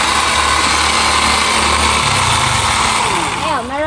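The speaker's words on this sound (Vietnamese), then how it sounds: "thì sử dụng cái loại cưa pin này nè" A battery-powered chainsaw runs with a loud, steady high whine that shifts pitch as it works and then winds down near the end, with people talking over it.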